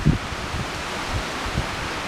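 Wind gusting through arbutus trees during a short autumn storm in the Gulf Islands, a steady rushing rustle with soft low buffeting puffs against the microphone.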